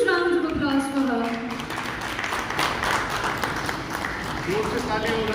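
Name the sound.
audience applause at award ceremony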